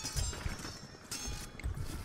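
Cavalry hooves clip-clop in steady repeated bursts during a Shogun Total War battle, a faint rhythmic galloping clatter running throughout without speech.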